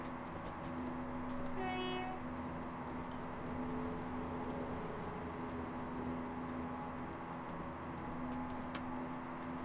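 A train rolls past on the railway near Dalmuir Park siding in suburban Glasgow, a steady rumble of wheels with a brief horn blast early on, heard from a distance at moderate loudness.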